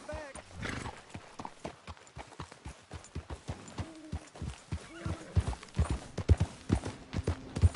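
Rhythmic hoof clip-clops of a horse in Red Dead Redemption 2, steady and fairly close, with a brief whinny near the start and a voice talking over the hooves.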